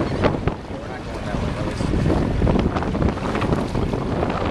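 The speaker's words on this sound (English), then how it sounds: "yeah, you see all that splashy crazy fucking water?" Seawater splashes and rushes around a sailboat pitching in rough open ocean, with heavy wind buffeting the microphone throughout.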